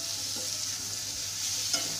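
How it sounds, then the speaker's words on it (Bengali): Boiled jackfruit seeds and peels frying in a pan, a steady soft hiss of sizzling oil with a faint scrape of stirring and no voices. "আমি একটু ভাজা ভাজা করব"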